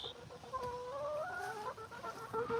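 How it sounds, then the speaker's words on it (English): Backyard hens, one of them broody, cluck and murmur in low, drawn-out rising calls, close by but soft, with faint outdoor background and no speech. "That's a broody chicken."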